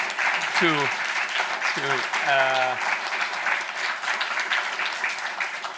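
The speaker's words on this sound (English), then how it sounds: "can I ask our participants to collectively applaud all our 7 speakers" Collective applause from participants at an EU research and innovation policy debate for seven speakers, a sustained dense clapping throughout, with a voice talking briefly over it near the start.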